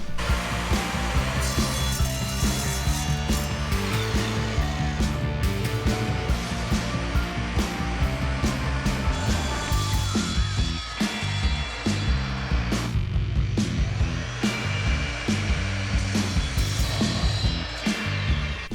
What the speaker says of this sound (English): To cut these steel tubing, I'm going to use this Evolution miter saw.